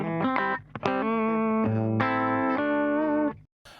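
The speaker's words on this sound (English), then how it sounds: "So the first thing I'm going to look at is the compressor" Electric guitar through the compressor effect of a Boss BE-5 multi-effects pedal, heard as a few quick picked notes followed by evenly sustained chords, close and loud, then a sudden stop.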